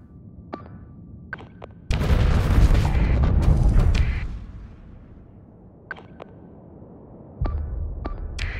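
An explosion during a Starsector space battle against a station, with missile ships in the fight: a loud, rumbling blast swells for about two seconds and fades, followed later by another heavy burst, with small sharp clicks scattered between.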